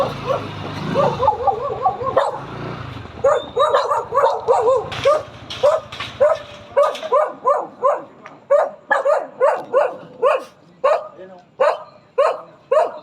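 Several dogs bark repeatedly at close range, a rapid run of sharp yaps and woofs that keeps going with little pause.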